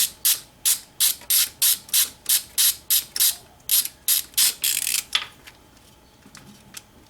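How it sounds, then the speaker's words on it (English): A socket ratchet clicks in a fast, even series of about fourteen bursts while backing out fuel rail bolts on a BMW N54 engine during a valve cover gasket job, close and loud, then stops into quiet. "now you take your socket here and you get all the bolts off for the fuel rail"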